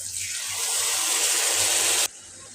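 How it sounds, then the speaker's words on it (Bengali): Water pours steadily in a broad rushing stream into a pan of cooking tengra fish for about two seconds, then cuts off abruptly, leaving a quieter background hiss. "এখন আমি পানি দিয়ে দিব পরিমাণ মতো"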